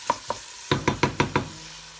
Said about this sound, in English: Alright, now that the onions are going, you want to mix them around. Alright, get that olive oil cooking.